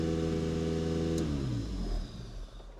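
A classic car engine at a Scottish classic car auction idles high at just over 2,000 rpm, a steady close drone that then drops and settles lower as revs fall.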